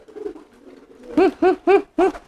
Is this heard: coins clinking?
no